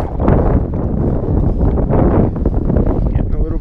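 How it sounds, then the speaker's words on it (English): Wind gusting over Eagle Lake while walleye fishing in spring, a loud, rough buffeting roar across the microphone that keeps up steadily throughout. "Getting a little breezy."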